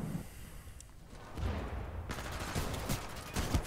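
Gunfire from a Titanfall 2 multiplayer match: bursts of rapid shots and booming impacts after a brief lull, loud and close, with no talking.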